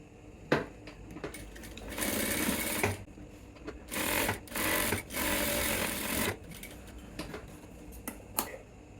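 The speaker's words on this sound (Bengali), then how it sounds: "এখান থেকে আগে এভাবে সেলাই করবো" A sewing machine stitches a trouser cross pocket in several close, rapid whirring bursts separated by short pauses, with small clicks and handling taps between runs.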